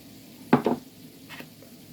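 Taco-seasoned ground meat sizzles in a pan as a utensil scrapes through it in two quick stirring strokes, followed by a fainter scrape against a soft, steady frying hiss.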